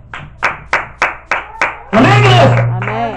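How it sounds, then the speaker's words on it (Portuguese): Applause in church: six loud, evenly spaced hand claps ring out, then a crowd bursts into sustained clapping and raised voices. "Há uma salva de palmas para Jesus Cristo"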